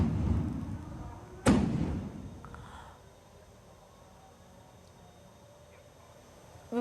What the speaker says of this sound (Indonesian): sebagai penanda waktu berbuka puasa, yakni dengan menyalakan suara dentuman meriam.